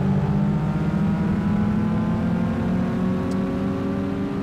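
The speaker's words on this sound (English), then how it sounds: "You can sort of hear it. And you can see it in the bottom corner. The car's now turbocharged." Turbocharged car engine in Gran Turismo 5 droning and pulling steadily under acceleration, a loud continuous hum with layered tonal harmonics and no talk over it.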